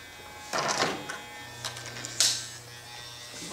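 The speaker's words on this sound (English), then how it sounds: "Clipper and fade this out." Electric hair clippers buzz in short bursts during a haircut, a close, soft drone that starts and stops with faint brushing and handling sounds between passes.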